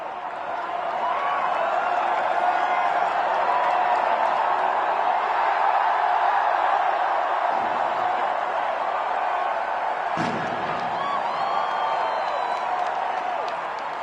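Large home crowd roaring and cheering continuously after India wins the ICC T20 World Cup for the second time, a dense, loud, sustained wall of stadium noise.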